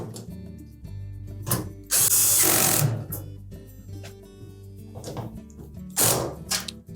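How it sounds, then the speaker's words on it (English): Power drill driving screws into a Samsung dryer panel during a thermistor replacement: several short whirring bursts, one longer loud run, then a final burst, with quiet handling knocks between. "Now we'll put the remainder of those screws in place."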